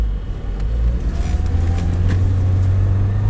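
A car engine labours up a snowy hill in first low gear, a close, steady rumble that swells slightly as the engine strains; no talk.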